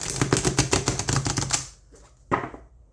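A tarot deck is riffle shuffled close up: a fast, dense burst of card flicks for about a second and a half, then quieter bridging rustles and one short final slap of cards.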